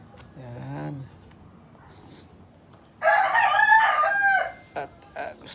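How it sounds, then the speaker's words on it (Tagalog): Several domestic roosters kept as pets crow at midday on a farm, with one shorter call early on, then a loud, drawn-out crow nearby, followed by brief clucks and small sounds. "Tanghali na, tilaok pa ng tilaok ang ating mga alaga."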